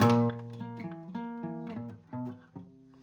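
A guitar picks a walking riff, a handful of close, clear plucked notes stepping along the low strings, with no talking.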